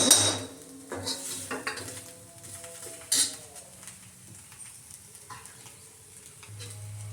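Tawa-fried bitter gourd lifted off a hot griddle, with a few scraping clinks of a utensil against the pan over a soft sizzle, close and intermittent, then quieter frying at the end.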